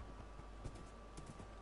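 Horse hooves clip-clopping in Minecraft, a quiet, steady patter of light taps over a soft background hiss, brief and faint.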